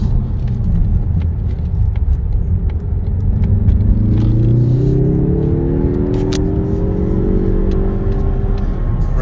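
A 2023 Mazda 3 2.5 turbo with all-wheel drive revs steadily upward toward its limiter, the engine note rising smoothly over several seconds under a constant loud rumble, with no talking.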